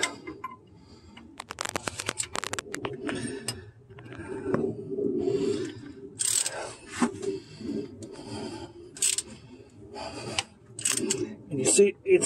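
Stretch-fit AC belt on a 2014–2020 GM engine being worked onto its pulley by turning, giving irregular close rubbing, scraping and ticking sounds with occasional louder squeaks, while a person talks intermittently.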